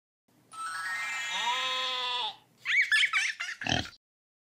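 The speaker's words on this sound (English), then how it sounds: "Have a warm and woolly winter with your friend Sheep" A sheep lets out one long, wavering bleat with a clear harmonic tone, followed by a short cluster of rougher, choppier bursts, all loud and close with nothing else around.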